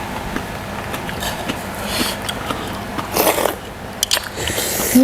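Crunchy bites into Luang Prabang papaya salad made with strange, very crisp papaya strands and fresh shrimp, several close chewing crunches and scrapes at moderate volume with no speech.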